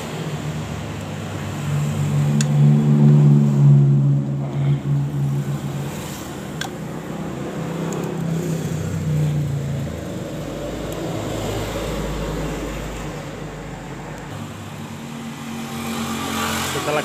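Honda Beat FI scooter engine running with a rough, grinding CVT, oil lacking in the engine, a steady close-up drone with no talk.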